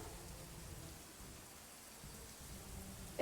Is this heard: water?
no